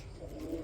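A pigeon gives a brief, soft, low coo in a pigeon market, faint against the background.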